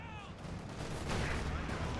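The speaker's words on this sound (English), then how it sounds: "Shots there at the IS-2 penetrating the frontal armor" Tank cannon fire and shell impacts in the World War II strategy game Company of Heroes 2, with an IS-2 heavy tank being hit, sounding as dense overlapping gunfire and explosions across a busy battle soundscape.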